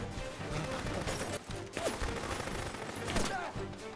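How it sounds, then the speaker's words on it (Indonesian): Gunfire in a film shootout, bursts of shots and impacts over tense soundtrack noise, loud and close with several sharp hits across the few seconds. "NIS sampai di tempat Jason dan adu tembak pun terjadi."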